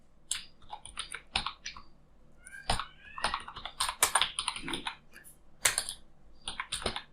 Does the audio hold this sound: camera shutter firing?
no